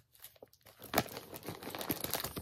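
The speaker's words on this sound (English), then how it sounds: "crinkling and opening this" Plastic packaging from a Temu order crinkles and crackles close up, starting with a few soft rustles and growing into busier, continuous crinkling.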